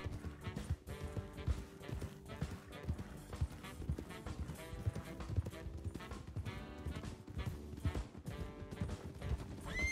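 Steady rhythmic hoofbeats of a horse in the video game RedM clop along at a trot, continuous and fairly close, with a busy background mix underneath.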